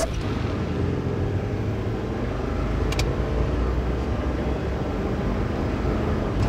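A Hummer accelerating hard from a standstill to 60 mph, a steady loud engine and road roar building without pause under cabin noise.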